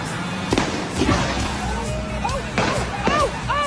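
Tipped-over fireworks skip across a lawn and fire off in repeated whooshing bursts and pops like a cannon, with whistling streaks between them and voices shouting in the background.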